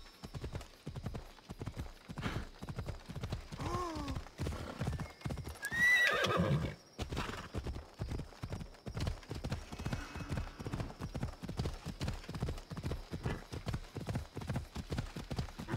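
A horse in the video game Assassin's Creed Odyssey gallops with steady, rhythmic hoof clip-clops throughout, broken near the middle by a loud neigh and whinny, over faint background ambience.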